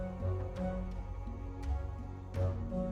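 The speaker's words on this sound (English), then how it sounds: "One head sings a low, bouncy melody, while the other sings a shrill, high song." In the video game Menagerie, a two-headed creature sings two parts at once: a low, bouncy melody under a shrill, high line, layered as sustained tonal phrases with light percussive accents.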